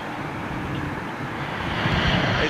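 A jet airliner applies engine thrust on a wet runway at London Heathrow, making a broad, continuous roar heard from a distance that swells slightly toward the end, with no talking.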